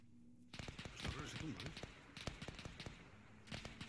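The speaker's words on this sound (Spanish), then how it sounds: "Nos disparen de algún lado. No sé de dónde están disparando" Gunfire in a WW2 video game mod set on a Tobruk mission: quiet, scattered sharp shots and short bursts at an irregular rhythm, heard beneath people talking.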